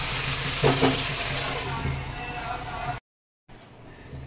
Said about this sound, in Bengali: এবার আমি ঢাকা দিয়ে মাংসটা কষিয়ে নেবো ভালোভাবে।